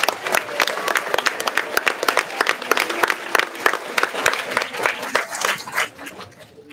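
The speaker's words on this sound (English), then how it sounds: "A round of applause." An audience applauds music teachers at a middle school's 50th anniversary event, with distinct individual claps standing out in a lively, uneven rhythm that fades away near the end.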